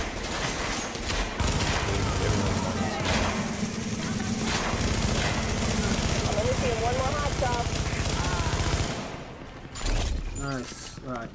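Sustained automatic gunfire in the video game The Division, loud rapid bursts rattling almost continuously before a brief lull and a final flurry, with a player's voice talking over the shooting.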